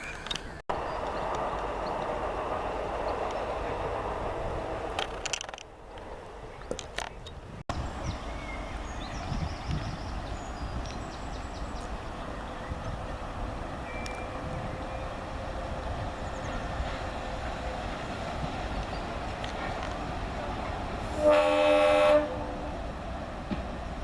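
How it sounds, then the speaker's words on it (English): Passenger train at the North Tyneside Steam Railway diesel gala rumbling past with a steady heavy drone, then a short loud horn blast near the end. "There's the first passenger train of the day"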